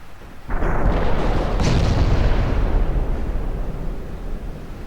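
Naval gunfire in the Ultimate Admiral Dreadnoughts game sounds as one loud, heavy blast that rolls into a long rumbling decay, with no voices over it.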